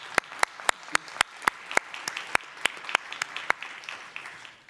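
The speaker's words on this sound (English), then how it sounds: "We let you go with a big applause and thank you for your contribution." Rhythmic clapping at a culture summit session, sharp, evenly spaced claps rising above a soft bed of scattered applause from a conference audience, moderately distant.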